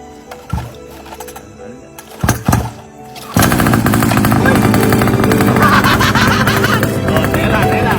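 An ATV engine starts after a few scattered knocks and then runs loud and continuous at a steady rev, close by, with people talking faintly beforehand.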